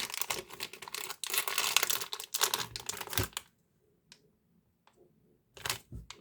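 A Justice League surprise blind bag package is torn open by hand, with close crinkling and tearing of plastic in bursts, a quiet pause, then a final rustle.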